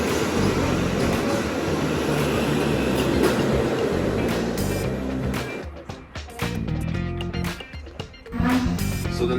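A train rumbles through the railway station at Torun at night, a loud continuous roar with rhythmic clicking of wheels that thins out into scattered clanks and squeals, with occasional voices in the background.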